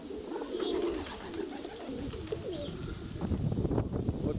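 Pigeons coo outdoors in the evening under a shifting northwest wind, a steady low murmur of several birds with a faint chirp or two over constant breezy background noise.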